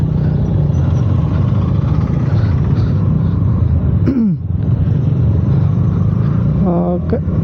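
A new KTM Duke 200 motorcycle is ridden on a rough road, its engine droning steadily and close with wind rumble, and a brief rising rev near the middle plus another short gear-change whine near the end.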